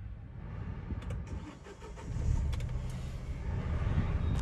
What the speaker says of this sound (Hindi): इसको हम स्टार्टअप करके दिखाते हैं आपको गाड़ी का कि इसकी इंजन नॉइस कितनी है